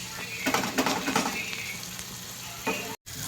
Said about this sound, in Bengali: মশলার সাথে ভালো করে ভেজে নেব চিংড়ি মাছটা।